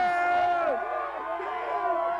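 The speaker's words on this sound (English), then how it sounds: "People here have been cheering all night long." A crowd of Phillies fans cheers and whoops in a continuous loud roar of voices at a street celebration, with sustained shouting that swells and carries on.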